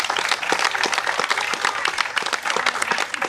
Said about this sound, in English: So please clap for the Governor Shapiro